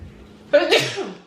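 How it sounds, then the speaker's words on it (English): A single sharp sneeze, set off by Creole seasoning while cooking, bursts out after a brief quiet moment, close and fairly loud, trailing off into a short breathy exhale. "this Creole season always make me sneeze"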